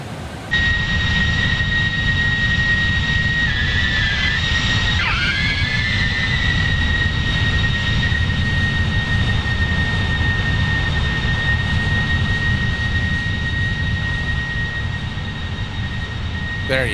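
Sparky Boeing 747-400 jet engines in the X-Plane 12 flight simulator give a steady, continuous roar with a sustained high whine. The sound stays loud and even throughout, with no talking.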